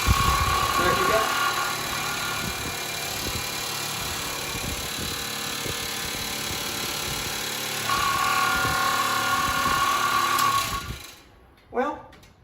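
Old vent fan on a 1967 Clark Cortez RV powered from a battery jump box, whirring steadily with a buzzing hum and rapid ticking, then winding down and stopping near the end.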